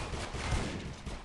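A rapid burst of gunfire from a first-person shooter game, dense and sustained across a short moment, with a slightly heavier report in the middle.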